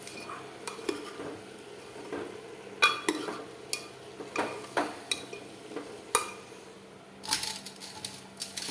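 A spoon stirs potato and spinach sabzi in a pan with repeated scraping and clinking strokes against the metal, over a low background hum, with no one talking.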